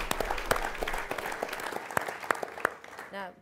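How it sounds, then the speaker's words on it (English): Light applause for a guest at a college sports journalism panel event: sparse, distinct claps from a modest audience, fairly quiet and steady across the moment. "Round of applause for Jim."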